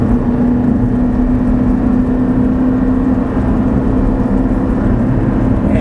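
An Audi R8 engine drones loudly and steadily on a track, holding a continuous strong hum as the car accelerates, with no talk over it.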